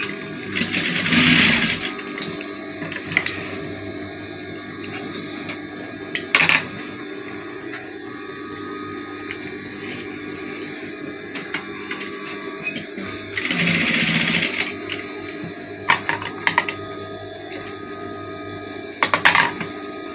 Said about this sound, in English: So now I want to stitch the sleeves.